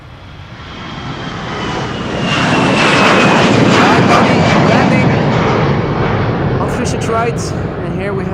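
A Transavia Airbus A321 departs Amsterdam Schiphol's Polderbaan runway in rain showers, its jet engines building into a loud, sustained roar that swells and holds close by, with a voice speaking over it.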